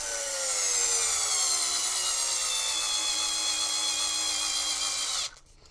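A power tool spinning steadily for about five seconds while tightening a screw on an Arrma Outcast 8S EXB V2 RC car, a continuous close whir that slowly drops in pitch before stopping abruptly.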